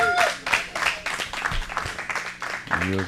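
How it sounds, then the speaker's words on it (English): A crowd breaks into clapping for a young performer at an open mic night, scattered applause mixed with cheers and voices talking over it. "Give him a big round of applause, everybody."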